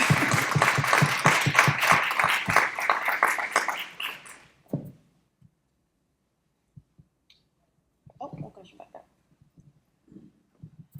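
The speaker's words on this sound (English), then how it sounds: "I think we clap after that." Audience clapping at a youth development gathering, a dense burst of many hands for about four seconds that quickly fades out, followed by quiet room noise and scattered soft sounds.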